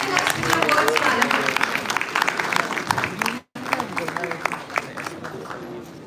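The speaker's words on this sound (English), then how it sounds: "Now it's time to welcome Special DGP Gurpreet Deo Madam on the stage with a resounding applause." An audience in an institute hall gives loud sustained applause welcoming a senior police official onto the stage, dense clapping with crowd noise and some voices mixed in, briefly cut before resuming.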